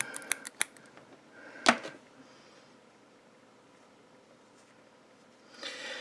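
Small cutters snip the wire ends of a vape coil build, a few crisp, close clicks followed by one louder sharp snip, then near quiet.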